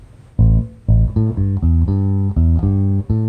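Electric bass guitar playing a short blues answer phrase, six plucked notes moving between low pitches in a steady, deliberate rhythm, clear and close with no voice over it.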